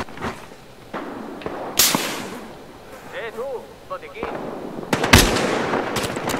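Scattered sharp gunshots in Battlefield Hardline crack out at irregular intervals, some close and loud, others farther off, with a person speaking between the shots.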